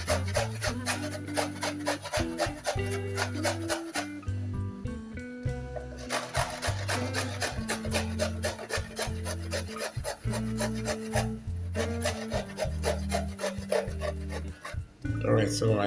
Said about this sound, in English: I'm gonna grate this other carrot